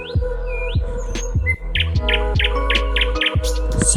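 Birds chirping at a bird watching site near Gangtok, Sikkim, with repeated short tweets and calls from several birds over a steady low hum, fairly close and busy.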